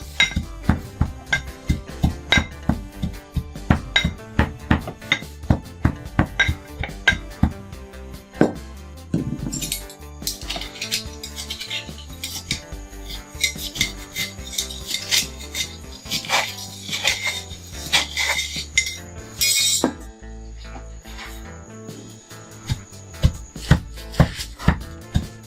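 Fishing bait ingredients are ground into powder, making a long stretch of irregular clinks, scrapes and knocks of hard material against a metal or ceramic vessel, close and busy with brief pauses.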